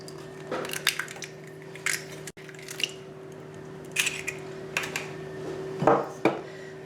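Eggs being poured and dropped into a salad bowl, several soft wet plops and squishes with light clinks against the bowl, close and fairly quiet over a faint steady hum.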